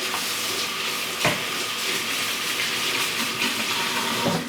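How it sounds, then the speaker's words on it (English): Red beans being stirred from the bottom of a cooking pot with a spoon, a steady scraping and sloshing texture that runs throughout, with a couple of slightly sharper scrapes against the pot, fairly close and alone. "So you want to start off stirring your pot from the bottom"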